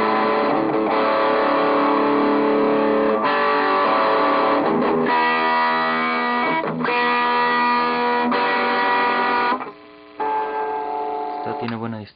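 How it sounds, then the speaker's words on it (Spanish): An instrument, probably an electric guitar, plays several sustained distorted chords and notes through the distortion setting of a small effects unit or amplifier, loud and steady, with a short drop near the end. "Vamos a ver cómo se haría con un poco de distor."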